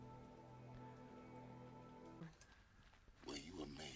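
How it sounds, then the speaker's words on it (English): Rain falls in the video game Horizon Zero Dawn, a faint, steady patter under soft sustained game music that drops away partway through, leaving a shifting wet hiss. "Oh boy, it's raining."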